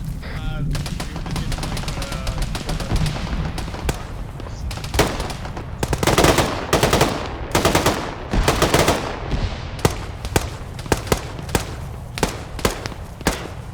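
Heavy gunfire in ArmA 3 during a squad firefight, with sustained machine-gun bursts and repeated loud rifle shots, some near and some distant, continuing for the whole stretch without talk.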